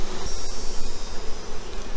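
Honey bees swarm around an open hive during a fall honey harvest, producing a dense, continuous buzzing drone that stays loud and steady throughout, with individual bees passing close by.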